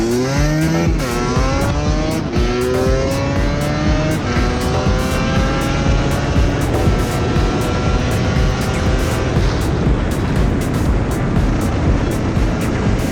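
A two-stroke Kawasaki KDX dirt bike engine runs smoothly after carburetor tuning. It revs up in rising whines at the start, then settles into a loud, steady, close-up buzzing idle with rapid regular pops.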